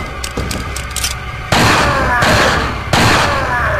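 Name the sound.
flash grenade exploding in Resident Evil 4 video game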